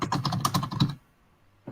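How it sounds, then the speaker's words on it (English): Rapid clicking keystrokes on a computer keyboard, close and distinct for about a second before stopping into near silence. "Excuse me typing in the background here."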